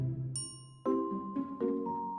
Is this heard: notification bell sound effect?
yes